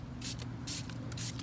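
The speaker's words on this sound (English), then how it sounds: "So I'm gonna spray it on the whole tire," Three short hissing bursts of Torque Detail plastic restorer sprayed from a trigger bottle onto a car tire, evenly spaced and fairly close, over a low steady background hum.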